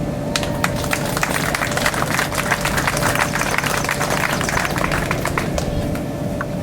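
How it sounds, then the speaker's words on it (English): An audience at a KPLAY playground dedication in 2015 breaks into dense, sustained clapping that carries evenly through the whole stretch, with crowd noise mixed in. "thank you all, and applause for yourselves"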